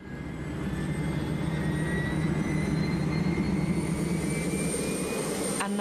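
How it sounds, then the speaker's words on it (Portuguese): A NASA high-altitude jet aircraft built to collect space dust, heard as a steady, loud roaring whine of jet engines that swells in at the start and holds, with no voices present. "A NASA tem um jato de grande altitude, especialmente projetado para recolher poeira espacial"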